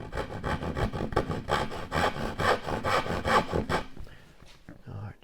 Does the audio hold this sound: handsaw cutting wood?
yes